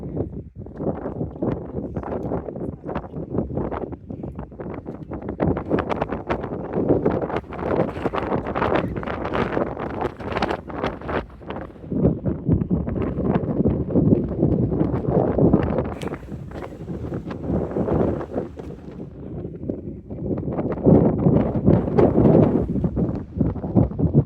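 Strong wind on the Skyline Trail in Cape Breton, buffeting the microphone in loud, continuous gusts and rumbles that rise and fall throughout, with no speech.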